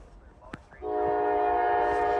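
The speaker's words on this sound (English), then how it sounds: "We finally got another train coming." A freight train sounds its loud, sustained multi-tone horn as it approaches through heavy snow at a crossing, the blast starting abruptly and holding steady after a brief faint knock.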